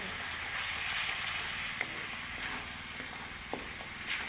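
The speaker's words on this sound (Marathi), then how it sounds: "आता वरी तेल भाज तेल व्यवस्थित भाजून" Homemade masala, Maggi masala and turmeric roast in hot oil for an egg curry, giving a steady, close sizzling hiss with a few faint clinks of stirring and no talk.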